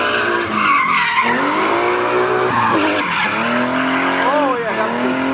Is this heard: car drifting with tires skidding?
yes